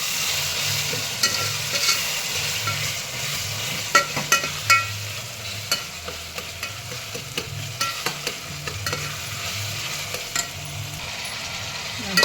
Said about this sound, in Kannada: ಬೇಯ್ತಾ ಇದೆ ಟೊಮೊಟೊ.